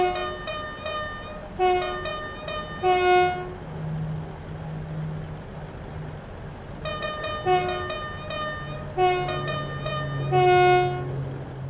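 An electric train motor in Train Sim World hums low and steady, playing the wrong motor sound, while bright two-tone electronic beeps repeat in bursts over it.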